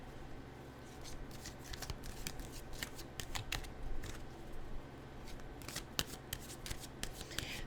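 Tarot cards are shuffled by hand in quiet, close riffles and soft slaps, with bursts of flicking cards scattered across several seconds, no talking.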